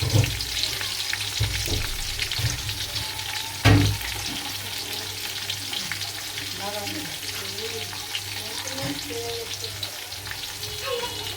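Onion frying in a pan as biryani is cooked: a steady, broad sizzle runs throughout at moderate loudness, with a sharp clunk near the four-second mark and faint stirring movements later.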